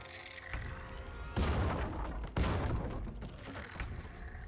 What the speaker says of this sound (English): A little bit of an explosion.